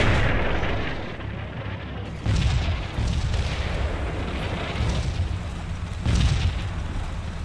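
A distant RPG explosion produces heavy low booms and rumbling blasts that roll out several times over a constant deep background roar, with no clear speech.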